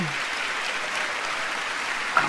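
An audience at a political speech applauds and cheers in a steady, dense wash of clapping that holds at even strength throughout.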